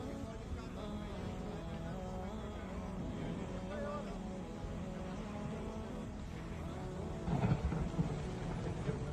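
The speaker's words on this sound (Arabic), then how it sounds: "أحياء شرق المدينة الآن تتعرض لعاصفة هائلة" Heavy rain during a thunderstorm over the eastern districts of Mecca, a steady wash of rain with low rumbling thunder, and a louder burst close to the end.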